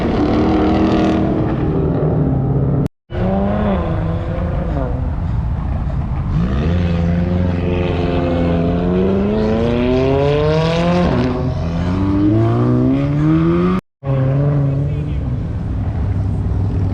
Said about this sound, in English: I'll film a few more cars so they peel out